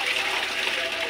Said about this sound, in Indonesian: air mancur bisa kita lakukan dengan memutar ini ya